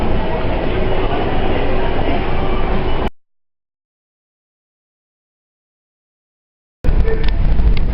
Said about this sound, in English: the rumble you hear in the background is the sound of the trains going by overhead